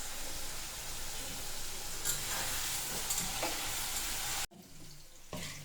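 Cut potatoes for homemade French fries sizzle steadily in hot oil, a close, dense hiss with occasional stirring scrapes, briefly cutting out before resuming a little quieter.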